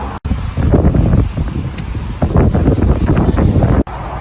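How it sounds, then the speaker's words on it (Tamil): Strong wind and rain buffet the outdoors at a home in the USA, a loud continuous rushing roar with gusty surges and rumbling wind noise on the microphone, with no voices. "செம்ம காற்று மழை."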